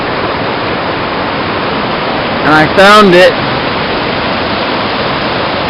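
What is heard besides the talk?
river water flowing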